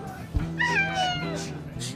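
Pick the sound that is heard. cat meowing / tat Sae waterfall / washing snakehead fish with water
cat meowing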